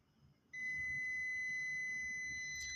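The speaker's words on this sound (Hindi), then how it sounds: "बीप की आवाज़ आती है तो इसका मतलब ये है कि ये फ्यूज़ सही है" A multimeter continuity beep on a good fuse starts abruptly and holds as one continuous high tone for about two seconds, clear and close against a faint low hum.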